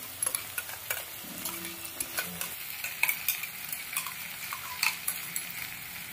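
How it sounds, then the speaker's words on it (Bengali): Cumin and chili spice paste hits a hot pan with a soft, steady sizzle, while a spoon stirs and scrapes in light, repeated clicks and taps. "মিক্সিতে যে মশলাটা করেছিলাম জিরে লঙ্কা, ওটা এবার দিয়ে দেবো এর মধ্যে"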